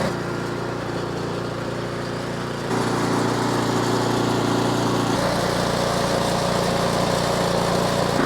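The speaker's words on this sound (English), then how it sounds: "That engine starts up great." An Ariens Deluxe 24 snowblower with the new Ariens AX engine starts and runs, a loud, steady small-engine drone that shifts and grows slightly fuller partway through, with no voices.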